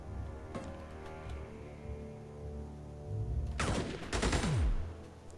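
Gunfire in the turn-based sci-fi game Steam Marines: a few scattered shots early on, then two loud bursts near the end, the second trailing off in a falling whine over a low game drone.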